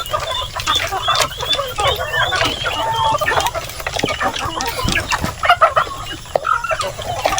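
Heritage chickens crowd inside a coop, their clucks and squawks overlapping in a busy, close, continuous chatter, with occasional sharp peeps and scuffling.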